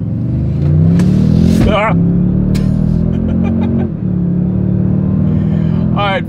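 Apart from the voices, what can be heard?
2024 Toyota Sequoia SUV accelerating hard in sport driving mode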